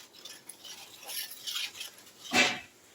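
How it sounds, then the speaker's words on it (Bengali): Yogurt paste being sautéed with ginger and cumin in a pan for doi potol, with quiet scraping and stirring strokes of a utensil against the pan and a louder scrape near the end. "দইয়ের পেস্টটা আদা জিরের সঙ্গে আর একটু কষিয়ে নিচ্ছি"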